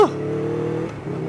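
A Ducati Panigale V4 motorcycle engine revs in sport mode, a loud close drone holding steady with a brief dip near the end.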